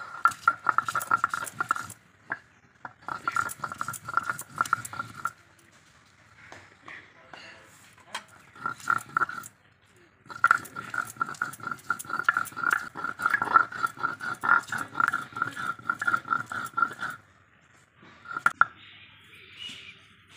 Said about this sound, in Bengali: আমি লঙ্কাটা এখন বেটে নেব।